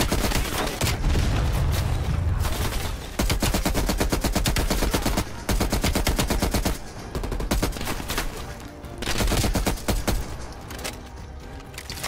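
Heavy, sustained automatic gunfire in the Operation Chaos video game: loud, dense rattling volleys that barely pause, with scattered heavier booms throughout.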